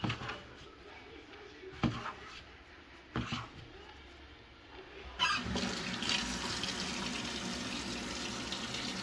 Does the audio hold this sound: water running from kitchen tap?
yes